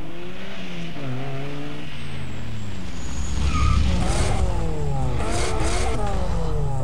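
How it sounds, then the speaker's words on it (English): Engine of a rotary-engine car in the Need for Speed Most Wanted (2005) street racing game, revving up and down through rising, falling pitch sweeps with brief tire squeals, loud and continuous with no talk. "Is that really how a rotary sounds?"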